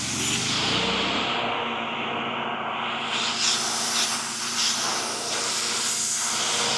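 A continuous loud hissing spray of cleaner onto mold close by, changing in pitch and intensity as it goes, with no talking.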